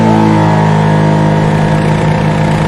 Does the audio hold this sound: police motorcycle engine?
yes